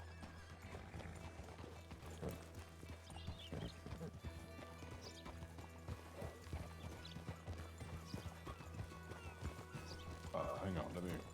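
Horse hooves clip-clop in uneven steps with occasional whinnies in the Red Dead Redemption 2 roleplay world, fairly faint beneath other game sounds and a voice talking.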